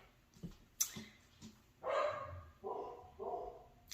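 Several dogs barking in a home, a few sharp separate barks followed by longer, louder bursts of overlapping barking, fairly close.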